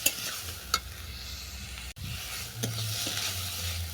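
Cucumber stir-fried with ginger in a pan, a low steady sizzle with occasional scraping stirs and a brief clatter midway, fairly quiet and close, with no talking.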